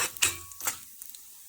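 Urad dal fried in a teaspoon of hot oil in a pan, giving a faint crackling sizzle with two quick stir bursts near the start, then settling into soft, sparse crackles.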